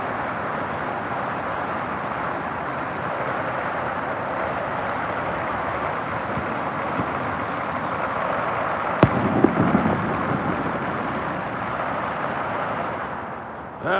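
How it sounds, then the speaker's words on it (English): A long, dense crackle of hundreds of firecrackers rolls on steadily without pause, moderately distant, with a sharper cluster of bangs about two-thirds through before it trails off. "Probably another 500 firecrackers or so."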